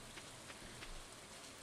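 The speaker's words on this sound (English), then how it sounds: "it's raining again" Rain falls in the farming video game Stardew Valley, a steady, even patter of drops forming a dense hiss with faint individual taps, heard alone at low level.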